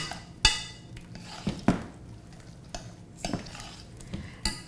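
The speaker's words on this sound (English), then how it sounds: "I'll give this another little stir" Mac and cheese pasta is stirred in a pot with a spoon, giving several distinct clanks and scrapes against the metal spaced between soft sticky squelches, close and clear.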